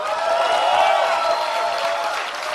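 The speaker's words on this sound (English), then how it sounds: "everybody in the crowd went wild while I was watching the keynote" A large keynote crowd claps and cheers in a sustained, dense wash of applause, fairly loud and even throughout, with no individual voices standing out.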